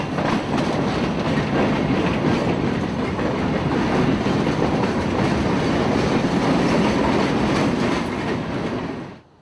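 A freight switcher locomotive pulls a train onto the Plant City Subdivision line; a loud, continuous rumble of rolling wagons and clattering wheels holds steady, then fades out abruptly at the end.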